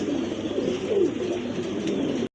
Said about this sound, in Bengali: সিরাজি কিন্তু না ভাই, লাহোরি কবুতর।